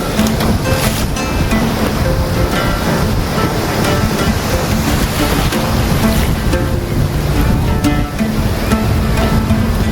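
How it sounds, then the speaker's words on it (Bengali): Big ocean waves at high tide on Bakkhali sea beach, a loud, continuous roar of surf with wind rushing across the microphone, no break for the whole stretch. "বিরাট বিরাট ঢেউ, এখন জোয়ার আসছে, জোর ঢেউ অনেক"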